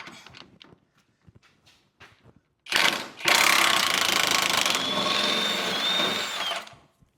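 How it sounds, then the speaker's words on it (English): A power tool unbolts the front lower control arm bolt on a Jeep Renegade. After a few faint clicks, it whirs loudly and close for about four seconds before winding down. "we're going to go ahead and unbolt this front control arm bolt"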